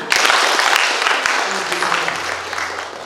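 A church congregation at a Kikuyu Sunday service bursts into loud, dense applause that fades gradually over a few seconds.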